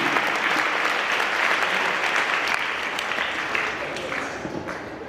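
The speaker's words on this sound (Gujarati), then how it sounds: "જિજ્ઞાસા બેન માટે આપણે જોરદાર તાળીઓ વગાડીએ" A seated audience claps steadily for a speaker, a thick sustained wave of applause that eases slightly toward the end.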